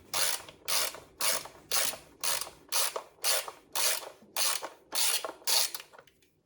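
A ratchet undoing 10 mm valve cover bolts on a 2012 Mini Cooper S Coupe, giving eleven close, even bursts of rapid clicking at a steady rhythm with nothing else heard.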